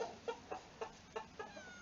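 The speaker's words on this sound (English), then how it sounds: "that rooster over there with the white tail feathers" Hens cluck and a rooster calls in a backyard chicken run, a rooster with white tail feathers among the flock; short close clucks repeat at a steady, quick rhythm, fairly faint, with no talking.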